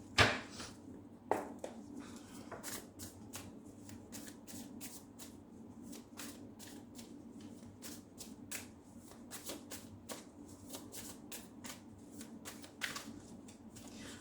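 Tarot cards are shuffled repeatedly up close, a string of quick crisp riffles and flicks with short pauses between them.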